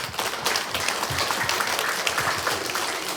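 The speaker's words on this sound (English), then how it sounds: "Please give these boys and girls a round of applause." A school assembly crowd claps steadily for a few seconds, a dense patter of many hands applauding together without pause.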